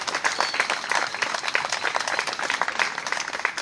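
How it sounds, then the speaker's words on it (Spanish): Audience applause at a monthly civic ceremony in the municipality of Comala, a steady wash of many hands clapping at moderate distance, continuous and fairly loud. "un fuerte aplauso para ellos"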